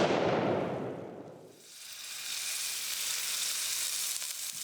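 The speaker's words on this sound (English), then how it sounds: "Chef Tobin Kent cooks the venison for his customers" Venison sizzles in a hot pan, a loud broad frying hiss that eases briefly then settles into a steady high crackle, heard alone.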